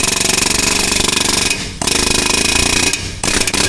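A hammer and chisel hammer rapidly on a bearing pressed onto a cast-iron Ford Super Duty 6.0 Eaton rear differential case, making a loud, dense metallic rattle that pauses briefly twice.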